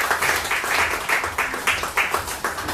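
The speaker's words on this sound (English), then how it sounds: "Please, let's put our hands together for her as she comes forward." An audience at a church gathering claps in a steady, rhythmic beat, loud and close, with a few faint voices underneath.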